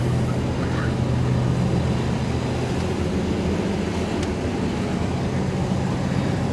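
A 1973 Plymouth Duster drives along, its engine and road noise forming a steady, loud low drone with a constant rumble throughout and no voices.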